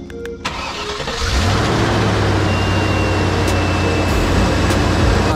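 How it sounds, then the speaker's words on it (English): A 2004 Land Rover Discovery 2 engine with a suspected head gasket leak cranks briefly, catches and settles into a loud, steady idle that continues to the end. "So we need to start the engine and let it idle for 10 minutes."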